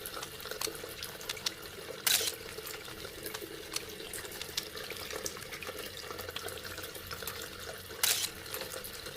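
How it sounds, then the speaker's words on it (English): Tap water runs steadily into a sink while hands are rinsed under it, a continuous close splash with a couple of brief louder surges; no talking. "Rinse your hands and dry thoroughly."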